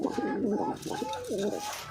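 A pair of racing breeder pigeons coo in soft, rolling repeated calls close by, a steady murmuring rhythm with a slight background hiss.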